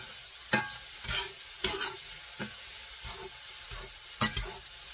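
A utensil stirs taco filling in a hot cast iron pan on a just-switched-off stovetop, giving several separate scraping strokes at irregular intervals with a faint sizzle beneath, near and fairly quiet.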